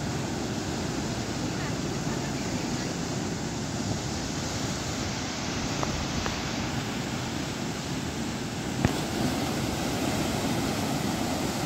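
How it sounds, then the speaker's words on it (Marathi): High sea waves at Chivla beach in Malvan roar as a steady, dense wash of surf with wind, continuous and fairly loud, without distinct breaks. "तुम्हाला तिकडे दिसत असेल लाटा किती उंच आहे"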